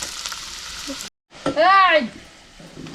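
Onion sizzling as it hits hot oil with a bay leaf in a pot on a wood-fired stove, a burst of frying hiss that cuts out, then resumes with a brief vocal sound over it.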